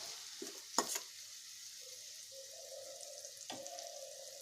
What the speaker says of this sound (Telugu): ఉల్లిపాయ పచ్చిమిరపకాయ వేగిపోయిందండి.